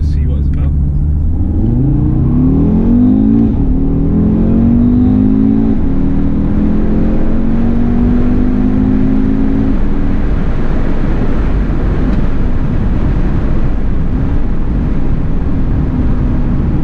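A 2022 Audi RS Q3 Vorsprung set to RS mode accelerates hard, its engine note climbing through rising gear sweeps with shifts, loud and close from inside the cabin, over steady road rumble.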